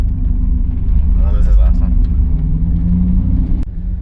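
A widebody Mini Cooper fitted with a short-throw shifter drives along a city street, its engine a loud, steady rumble heard from inside the cabin, with a person talking over it.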